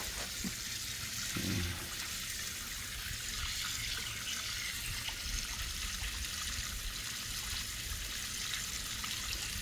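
Water trickling and splashing steadily into a turtle tank, a continuous soft burble with a low pump hum underneath.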